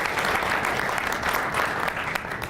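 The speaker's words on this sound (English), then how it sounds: "Round of applause." An audience at a mayor's news conference on a downtown public safety district claps in steady, dense applause, loud and continuous for the whole short stretch.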